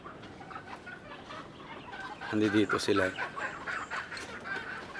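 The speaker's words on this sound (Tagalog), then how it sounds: "mga sisiw natin dito na panabong" Young gamefowl chicks on a quail and gamefowl farm cheep and cluck nearby, with a louder burst of clucking midway, while someone speaks briefly over them.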